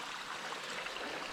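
A small stream at a trail water crossing among western red cedars near the Cooper River in the Alpine Lakes Wilderness trickles and burbles steadily in a soft, continuous rush.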